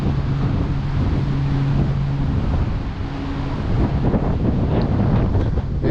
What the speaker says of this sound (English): probably about a 10-15 mile an hour wind